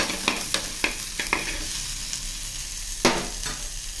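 Onions and green chillies frying in a pan, with a steady close sizzle punctuated by several sharp scraping clicks of a spoon stirring against the pan.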